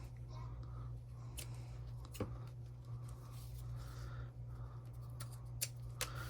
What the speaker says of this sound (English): We'll go ahead and trim these.